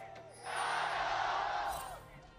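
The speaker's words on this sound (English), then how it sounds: "Crowd just going off." An esports arena crowd at a 2017 League of Legends World Championship play-in match between WE and YG rises in a loud, sustained roar of cheering that swells and fades over about two seconds.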